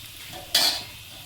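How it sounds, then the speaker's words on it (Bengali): Potatoes frying in a pan give off a soft steady sizzle, then a single brief, louder scrape-and-hiss burst as they are stirred midway, close up with no voices. "আলুটা ভালোভাবে ভেজে নিয়েছি"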